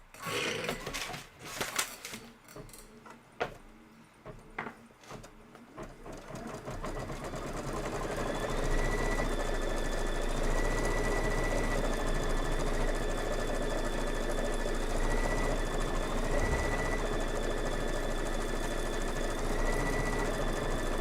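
An embroidery sewing machine runs a fast, even stitching whir as it outlines small leaves on a Kimberbell Cup of Cheer design, preceded by a few uneven clunks and taps before settling into a steady drone.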